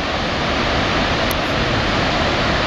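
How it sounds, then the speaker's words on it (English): The Gaganachukki waterfalls, twin falls seen from the viewing spot, give off a loud, steady broadband roar like rushing white noise, continuous and unbroken throughout. "two waterfalls. We are actually seeing from the Gaganachukki viewing spot."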